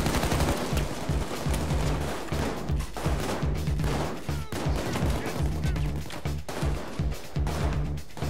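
Rapid, dense gunfire from the video game Payday 2, with shotgun blasts mixed into a continuous loud barrage of shots and low booms, with brief dips between bursts.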